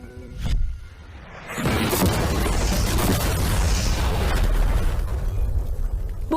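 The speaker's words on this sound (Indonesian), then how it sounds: "kami bakal ledakin mobil biasa untuk melihat apa penumpangnya selamat" An ordinary car blown up as a test sounds as a sharp blast, then a sustained, roaring, broadband rumble with crackling debris that fills the rest of the moment, loud and close, with no talk.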